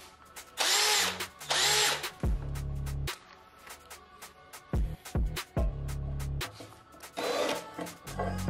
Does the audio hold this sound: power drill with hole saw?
yes